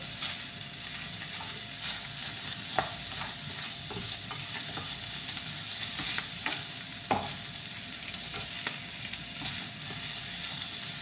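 Beef sizzles steadily in a small amount of oil in a pan, a continuous frying hiss broken by occasional sharp pops and stirring clicks.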